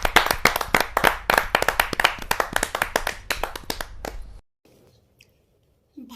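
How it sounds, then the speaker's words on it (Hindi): Audience at a kavi sammelan poetry gathering in India bursting into loud applause, dense close clapping for about four seconds before it stops abruptly into near silence. "जोरदार ताली के साथ हम उनका स्वागत।"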